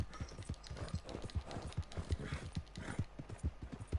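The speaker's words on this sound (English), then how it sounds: "Oh, Horsey needs something" A horse in Red Dead Redemption 2 trots steadily, its hooves making a quick, even clip-clop rhythm close by for the whole stretch. No clear whinny stands out, and no voices are heard.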